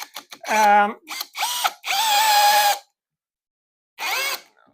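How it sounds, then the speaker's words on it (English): A power drill drives screws into a board for sound-insulation fastening, with several whirring bursts of rising and falling pitch, one long sustained run, and a final short burst after a pause, loud and close. "just gonna put 2 or 3 more because I love putting these screws in"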